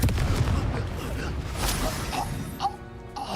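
Confringo spell in Hogwarts Legacy: a loud booming blast opens, then rumbles and crackles away over a few seconds, with a smaller magical burst and ringing tones near the end.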